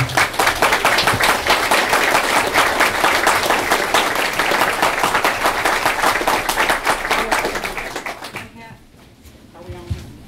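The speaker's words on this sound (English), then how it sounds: "Give them all a round of applause, please." An audience at a county meet-the-candidates forum gives a long round of dense applause, steady and loud for about eight seconds before fading quickly, followed by a few scattered sounds and a brief voice.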